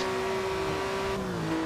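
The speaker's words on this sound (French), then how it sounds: "le moteur Porsche très très bien reproduit" A Porsche engine in the racing game Forza Horizon 2 holds a steady, loud high-revving tone that shifts pitch briefly as if changing gear, continuous and close with no talking.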